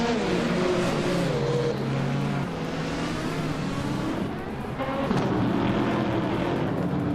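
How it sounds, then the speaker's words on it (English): Race car engines roar and rev together at the start of a retro-themed racing video game event at Circuit Gilles Villeneuve, including a classic 1977 Lancia Stratos Turbo, a loud, continuous layered engine drone with shifting pitch throughout. "the race is underway at the legendary circuit Gilles Villeneuve Retro"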